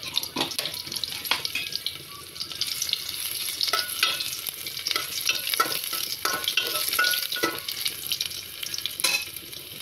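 Chopped garlic fries in oil for a dal tempering, a loud, busy crackle with frequent spitting pops and clinks of stirring close by, continuous and unbroken by speech.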